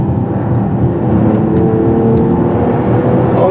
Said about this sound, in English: You got a bunch of popping noises coming out of the exhaust.